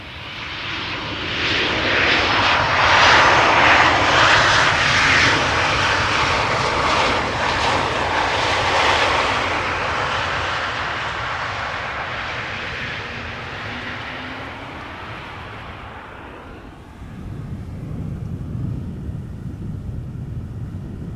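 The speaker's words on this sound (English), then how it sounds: "KLM flight 1138 about to touch down here. 737-700" A KLM Boeing 737-700 jet lands at Amsterdam Schiphol after a flight from Dublin, a loud broad roar of engines passing close by that slowly fades, then a lower rumble follows as the noise drops off.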